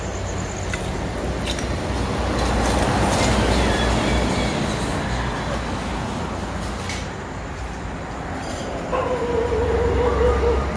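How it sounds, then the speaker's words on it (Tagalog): Several dogs bark and yip in an abandoned canteen, loud yaps scattered over a steady rumbling background, with a whimper near the end; people talk quietly between the barks. "Daming aso guys."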